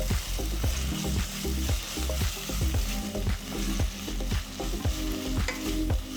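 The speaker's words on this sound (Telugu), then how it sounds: "తర్వాత 2 టీ స్పూన్ల ఫ్రెష్గా దంచుకున్న అల్లం వెల్లుల్లి పేస్ట్ వేసి మరో 2 నిమిషాలు వేపాలి" Freshly pounded ginger garlic paste fries in a pan, two teaspoons added over onions for a cooker chicken pulao, with steady loud sizzling and repeated sharp scrapes and knocks of a stirring spoon throughout, no voices.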